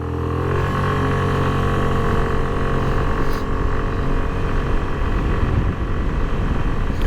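A Suzuki Avenis 125 scooter's small engine drones loudly and steadily, its harmonic hum building and holding as it accelerates to top speed, with wind rush throughout.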